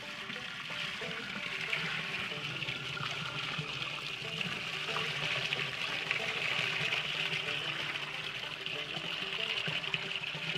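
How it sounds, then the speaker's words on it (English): Wine poured through a large filter into a bladder press gives a continuous, soft trickling and splashing of liquid, steady and fairly faint, with no voices. "Then we pour the wine in."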